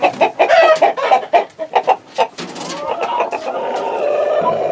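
Chickens cluck repeatedly in a barn, close and fairly loud, with a busy burst of calls giving way to steadier, softer clucking and a low continuous hum of the flock.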